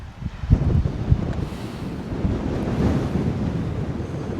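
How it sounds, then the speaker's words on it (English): Strong gusty winter wind at the Cromer seafront buffets the microphone with a loud, constant rumble, broken by a few heavier thumps, with faint calm surf underneath and no talking. "It is very windy out there."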